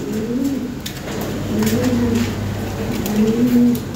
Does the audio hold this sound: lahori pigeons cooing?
yes